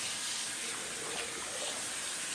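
Hot water pouring steadily from a tap while a dyed jumpsuit is rinsed, a continuous broadband splashing rush, close and constant with no speech.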